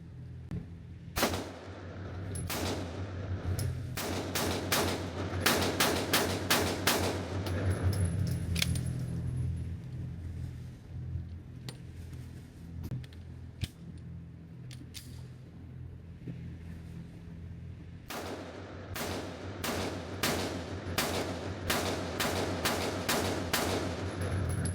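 Glock pistol fired in repeated volleys of sharp, loud cracks, some in quick strings and others spaced out, with a quieter stretch midway and another rapid burst near the end.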